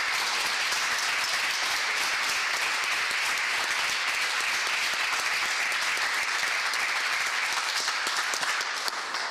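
Steady, dense applause from a large audience at a Nashville mayoral news conference held outdoors at 5th and Broadway, continuous and fairly loud with no voices over it.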